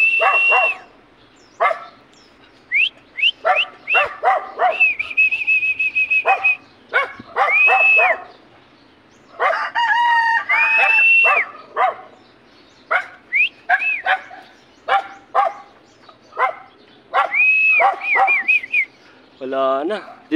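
Several dogs bark in repeated sharp bursts of varying pitch, close and loud. Whistling bird calls mix in throughout, with brief quiet gaps between the outbursts.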